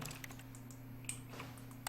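Keyboard typing in The Stanley Parable video game: a quiet run of soft key clicks with a few sharper taps, steady and close over a low constant hum.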